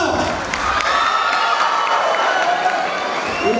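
An audience at a youth festival cheers and shouts in a loud, continuous wave of crowd noise with clapping mixed in, sustained for several seconds.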